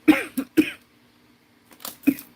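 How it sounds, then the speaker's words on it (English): Several harsh coughs from a person with pneumonia close up, two quick ones followed by a third, then a pause and another pair of coughs. "that darn cough kicks in the evening"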